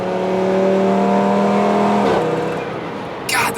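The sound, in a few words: Audi RS3 accelerating with hard gear shifts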